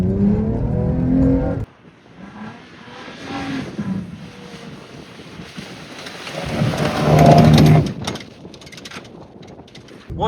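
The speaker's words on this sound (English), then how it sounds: "we're going through some deep snow right here" A Toyota Tacoma truck with heavily upgraded suspension ploughs through deep snow. A muffled engine rumbles with crunching and rushing noise, then surges louder near the end, and no one speaks.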